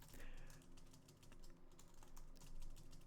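Fast typing on a computer keyboard, a steady patter of faint, close key clicks with no voice.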